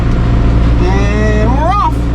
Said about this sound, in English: baler's running, RPM set